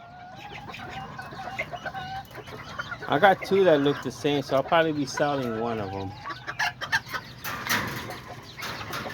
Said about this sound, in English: One of the newer roosters that we have gotten.